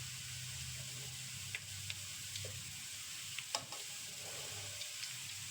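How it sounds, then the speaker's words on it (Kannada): Coconut oil simmering and sizzling in a pan with aloe vera and carrot pieces, a steady soft hiss with a few faint clinks and stirring scrapes, no talking. "ಕಡಿಮೆ ಅಂದರೆ ಹದಿನೈದು ನಿಮಿಷ ಅಂತೂ ಈ ಥರ ಎಣ್ಣೆಯಲ್ಲೇ ಕುದಿಸ್ಕೊಳ್ಬೇಕು"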